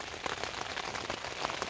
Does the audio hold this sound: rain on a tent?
yes